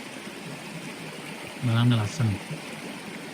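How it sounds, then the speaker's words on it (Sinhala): A cold mountain stream from Horton Plains runs past a campsite, its steady rushing hiss continuing throughout while a person speaks briefly over it. "හොටන් ප්ලේන්ස් වල ඉඳලා එන සීතල වතුර පාර"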